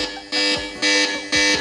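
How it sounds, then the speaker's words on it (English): The built-in alarm of an 8849 Tank 4 rugged smartphone blares in loud, harsh bursts, three pulses repeating at roughly half-second intervals with short gaps between. "That is one of the worst sounding alarms I've ever heard."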